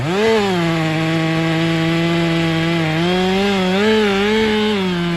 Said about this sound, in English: This worker is using a chainsaw to fell the tree.